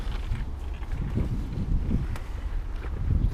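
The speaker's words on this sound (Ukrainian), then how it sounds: "Дує приємний такий вітерець, дуже сильний." Strong wind gusts roar and buffet against the microphone after rain at the Blue Lake in Vynohradar, Kyiv, a steady low rushing noise with no voices.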